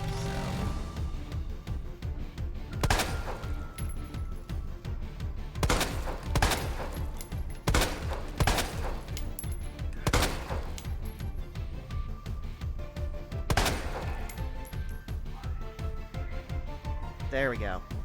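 Gunfire from the Resident Evil 2 Remake, with several sharp shots spaced a few seconds apart over a continuous game background.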